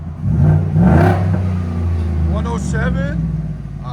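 A Ford F-150 5.0L V8 with an aftermarket muffler revving up and holding a high growl, while people talk loudly over the engine.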